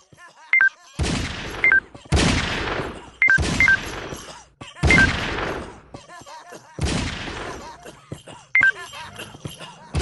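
Gunfire in the mobile video game Circus Master Revenge: about five loud, abrupt bursts of rapid shots separated by short pauses, with small electronic game blips between them.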